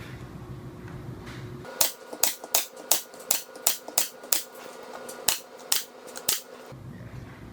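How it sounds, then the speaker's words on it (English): Nails are hammered into replacement floorboards during a kitchen renovation, about a dozen sharp, close, evenly spaced strikes in a steady rhythm, with quiet room noise before and after. "I'm going to put nails in this side, like 3 or 4."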